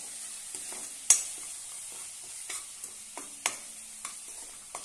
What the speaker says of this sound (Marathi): चवीनुसार मीठ, छानपैकी परतून घेऊया।